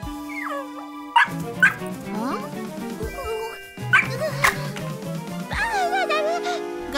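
An animated cartoon dog yips, whimpers and barks in short bursts while playful music and chimes run underneath and a voice speaks over part of it.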